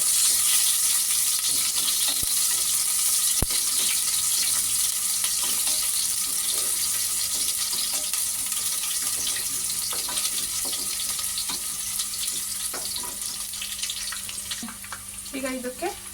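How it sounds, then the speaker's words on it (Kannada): Mustard seeds and chopped onion fry in a pan, a bright, steady sizzling hiss close by that runs throughout and slowly eases, with occasional faint clinks and pops. "ಈಗ ಸಾಸಿವೆ ಎಲ್ಲ ಸಿಡ್ತಿದೆ, ಅದಕ್ಕೆ ಕಟ್ ಮಾಡಿದಂತ ಈರುಳ್ಳಿ ಹಾಕೋತಾ ಇದ್ದೀನಿ"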